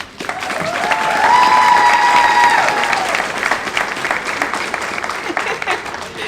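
Audience applause and cheers at a school board of education meeting as the Teacher of the Year is introduced, rising quickly into sustained loud clapping with a few whoops over the first seconds, then holding steady.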